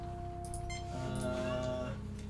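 A cat meows in the Star Trek: Judgement Rites video game, with a drawn-out, wavering meow over a steady electronic game soundtrack, fairly loud and close.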